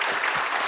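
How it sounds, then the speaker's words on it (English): Round of applause from an audience at a museum meeting in Portugal, a steady dense wash of many hands clapping close and fairly loud, with no voices. "asking for a big round of applause for"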